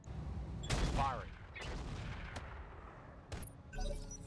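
Mech weapons firing in the RogueTech mod of BattleTech, a fusillade of heavy shots and blasts in several separate bursts, loud and close.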